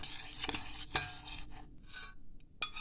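A spoon scrapes and swirls through sweet, sour and spicy sauce in a pan as it cools, soft irregular rubbing strokes with a few sharper clinks, quiet and close.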